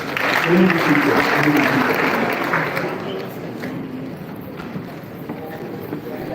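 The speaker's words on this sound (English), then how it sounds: "Round of applause, please." Audience applause at a public speaking event in Ghana, a dense, steady clatter of clapping that peaks early, then thins and softens over the final seconds, with voices mixed in.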